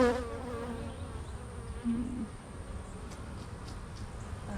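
Honey bees buzz steadily around an open hive with frames of larvae and drones, a dense continuous hum close by with slight swells, no talking.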